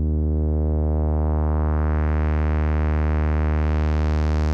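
A Eurorack square and triangle wave pair run through the Esquivel VCF in low pass mode, a sustained buzzy drone whose upper brightness rises as the filter opens, steady and alone.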